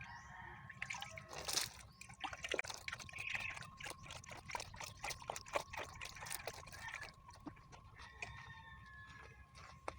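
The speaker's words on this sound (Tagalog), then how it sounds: "lalagyan muna natin ng tubig para mabasa yung ano, lupa." Water trickles and dribbles onto garden soil in a thin, uneven stream with small splashes and drips, fairly close.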